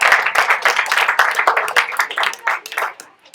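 An audience at a TED talk event gives a short burst of applause, dense clapping that is loud at first and tapers off within a few seconds.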